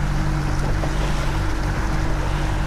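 Commercial fishing boat engine idling, a loud continuous low rumble with steady hum mixed with wind and water wash, close and unbroken throughout.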